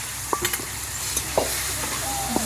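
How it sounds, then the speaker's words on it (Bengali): Boal fish bones frying in a pan for a fish-bone chorchori, giving a continuous close sizzle with a few sharp stirring clicks and scrapes scattered over it. "ভাজা হয়ে গেছে এবার দিয়ে দিচ্ছে কাটাগুলো"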